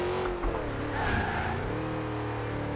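Engine note of a front-wheel-drive car being drifted through old streets in the racing video game Forza Horizon 2, a steady loud revving drone with rising and falling pitch and no talk over it.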